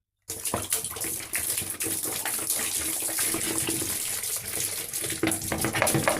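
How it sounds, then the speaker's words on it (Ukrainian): Water gushes and splashes steadily out of a bottle for several seconds, a continuous glugging pour with no talking. "Наступне завдання вилити всю воду з цього бутилки за 10 секунд"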